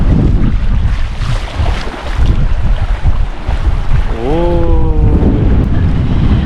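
Strong coastal wind on Fuerteventura buffets the microphone in a constant roaring rush with surf noise beneath, and a brief rising whistle-like tone cuts through near the end.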